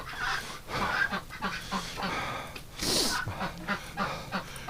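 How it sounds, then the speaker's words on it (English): Ducks quack and honk inside a duck house on a damp, cold winter day, several calls in loose overlapping bursts at moderate distance over a faint background hiss, with no talking. "The smart ducks are staying inside."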